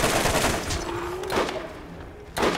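Gunfire in the video game Borderlands, heard as dense, continuous shooting with a few sharper blasts, loud and close in the game mix, with no speech.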